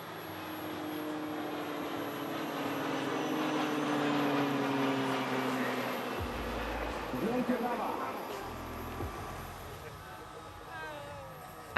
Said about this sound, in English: The PZL-130 is a basic jet training aircraft which entered service in 1994